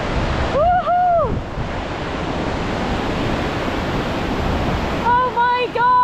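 Mackay Falls on the Milford Track roaring as a loud, steady rush of falling water close by, with voices speaking briefly over it at the start and the end.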